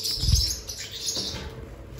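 Forpus parrotlets fluttering as they are caught by hand: a short close flurry of wingbeats with faint chirps and scuffling, no speech.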